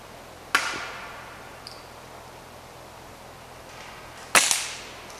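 A field target air rifle shot at a Hunter Field Target world championship, rifle scoped at nine times and zeroed at 23 metres: two sharp, isolated cracks several seconds apart, the first followed by a faint distant ping, in quiet open-air surroundings.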